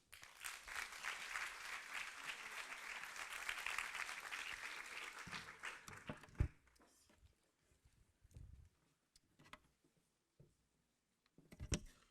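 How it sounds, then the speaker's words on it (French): Audience applause welcoming a speaker at a talk, a full round of clapping for about six seconds that fades out, followed by scattered footsteps, knocks and small handling noises in a quiet room. "Je vous propose d'applaudir Mélanie Voyer."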